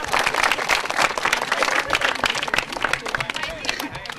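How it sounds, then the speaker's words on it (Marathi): Audience applause for a quiz winner at a public event in Satara, a dense burst of many hands clapping continuously and close, with crowd voices mixed underneath. "त्याच्यासाठी जोरदार टाळ्या"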